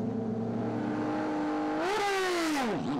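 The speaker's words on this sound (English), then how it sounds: "And here's the king of the Porsches, Tim van Parijs." A Porsche rally car on a stage approaches with a steady engine tone that swells and climbs in pitch, then drops away sharply as it passes close by, with no talk.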